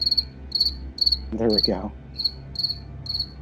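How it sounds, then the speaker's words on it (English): A cricket chirping sound effect from a soundboard plays as steady rhythmic trills, loud and close, while someone speaks briefly over the middle. "Oh, do I need my cricket soundboard?"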